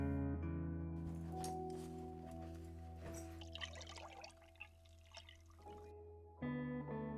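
In the video game Heartstop, water pours and trickles into a pet's bowl: a soft, liquid splashing and dribbling that rises and then stops, set over sustained, low musical tones.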